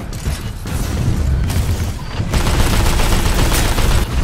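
Rifle gunfire in Titanfall 2, dense and loud, with rapid overlapping bursts and booming impacts running almost continuously, briefly dipping between volleys.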